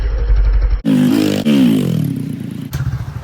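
A small Honda CRF110 dirt bike engine warming up, idling with a rapid putter, then revving up sharply twice, the pitch rising and falling, loud and close.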